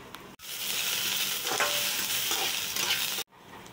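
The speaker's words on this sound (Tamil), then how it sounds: "வெங்காயம் கொஞ்சம் நல்லா வதங்கட்டுங்க" Onions sautéing in a pan for Siruvapuri pepper brinjal piratal, a close, steady sizzle with soft stirring scrapes that starts abruptly and cuts off near the end, with no voices.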